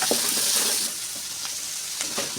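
Chopped onions, four large ones, sautéing in a pan with coriander leaves and mint, a steady broadband sizzle with a few soft stirring clicks, close and fairly loud, no voices.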